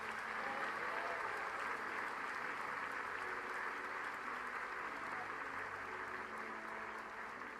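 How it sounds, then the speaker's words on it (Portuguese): Church congregation applauding during a worship service, a faint, even patter of many hands clapping held at a distance throughout, with no clear speech over it. "Dá um aplauso ao Senhor, dá um grito de glória aí"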